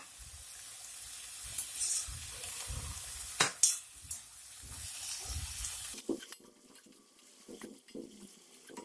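Chopped ginger, garlic and green chilli sizzle in a hot pan for a squid stir-fry, a steady bright hiss with a few sharp pops and clatters midway, then easing into quieter stirring.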